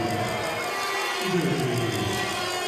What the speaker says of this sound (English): As the crowd are not happy with that call.